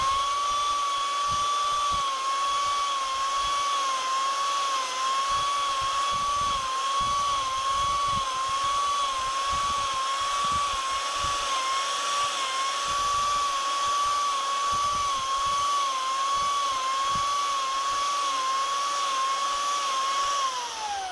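An Arbortech mini carver power gouge cuts into wood with a steady, high-pitched whine that wavers slightly as it bites, running continuously and close up with no talking.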